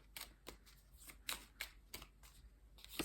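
Tarot cards handled and laid down on a spread, giving soft, close, intermittent slaps and brushes of card stock against a surface, with no talking over them.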